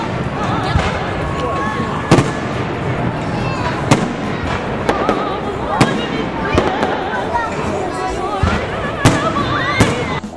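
Fireworks bang and crackle in sharp, repeated bursts at irregular intervals, over a steady background of voices.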